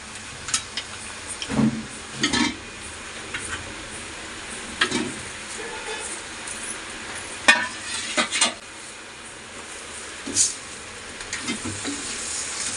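Chicken is stirred in a pan for a Kerala Palakkad-style white pumpkin chicken curry, with irregular spatula scrapes and clinks over a low, faint sizzle, sparse and fairly quiet.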